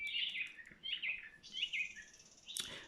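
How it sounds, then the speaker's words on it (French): Recorded birdsong playing in the background, several bright chirping phrases repeating at a moderate, steady volume, ending with a sharper, louder call. "j'ai mis un fond d'oiseau parce que ce matin on les a pas entendus"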